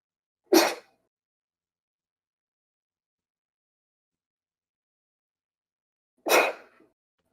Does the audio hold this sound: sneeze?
yes